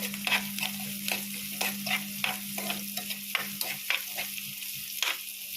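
Sliced onions and garlic sizzle in hot oil in a pan while a utensil stirs them in repeated scraping strokes. The sizzle is close and steady, with a faint background hum and no talking.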